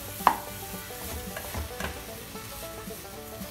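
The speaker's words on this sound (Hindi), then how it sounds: "इसको मैंने फास्ट आंच पे अच्छे से मिक्स कर दिया है." Vegetables stirred and fried over high heat in a pan, a steady close sizzle with a few scraping stir strokes, no talking.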